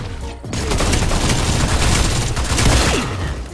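Dense, continuous gunfire from the mobile action shooting game T3 Arena, loud and close, with rapid overlapping shots and bursts that barely let up.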